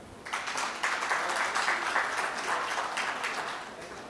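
An audience claps for two speakers on stage at a fireside chat during an energy policy event. The applause is steady and fairly loud for about four seconds and rises just after it begins.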